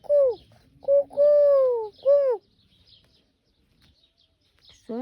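A person imitates a bird's ku-ku-ku call, giving several close, clear cooing notes in quick succession, then briefly falls quiet before another voice begins.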